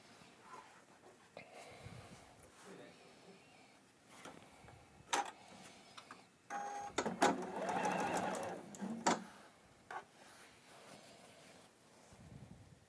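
A sewing machine stitches quilt block seams in bursts, its fast mechanical whirring rising loudly for a few seconds at a time over a quiet room with brief pauses.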